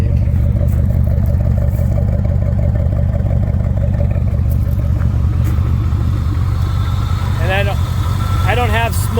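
Car engine idling with steady low rhythmic clatter throughout, close and fairly loud, with brief chirping noises near the end.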